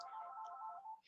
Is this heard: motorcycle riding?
no